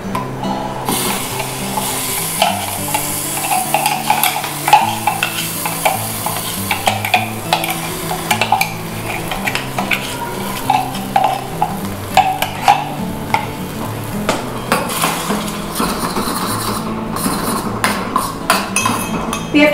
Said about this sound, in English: now to this we add our mixture, that is the paste of the dry fruits